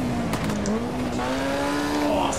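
Formula Junior race car in the Automobilista 2 sim game, its engine holding a steady rising drone while the overheated tyres scrub and squeal faintly, close and continuous throughout.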